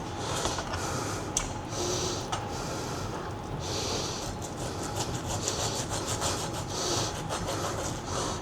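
A steak knife saws through pork in a steady run of rasping strokes, close and continuous, with sharper scrapes as the blade drags on the cutting surface.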